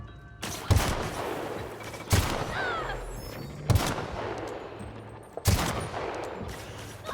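Gunfire in The Outer Worlds game, four sharp shots spaced about a second and a half apart, each with a short ringing tail, fairly close and with no talk.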